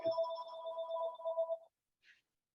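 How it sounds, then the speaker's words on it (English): A telephone ringtone sounds once as a steady electronic tone for about a second and a half, then cuts off, followed by a brief faint blip and silence. "Are you ringing me for something?"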